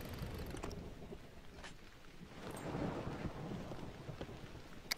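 Stormy weather in the Just Cause 2 video game, a low, steady rumble of rain and wind with a swelling thunder-like roll in the middle, fairly faint and distant, a few light clicks over the top.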